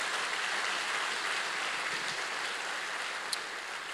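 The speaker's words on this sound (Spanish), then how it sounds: "Alguien le dé el aplauso al Señor ahí donde está" A congregation applauds in church, a steady wash of many hands clapping at a moderate, even level throughout with no pause.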